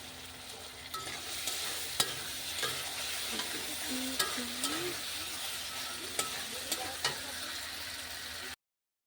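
Potatoes fry with chopped onion and garlic in a pan: a continuous soft sizzle runs throughout, broken by periodic clicks and scrapes of stirring, close by, with a faint voice-like tone in the middle.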